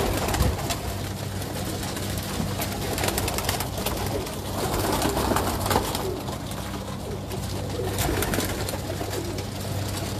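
Pigeons coo on a rooftop where fancy pigeons are kept, with steady overlapping calls and fluttering over a constant outdoor background, close and fairly loud.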